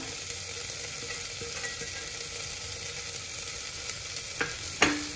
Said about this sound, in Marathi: आता 1 मिनिट आपल्याला व्यवस्थित हे परतून घ्यायचं आहे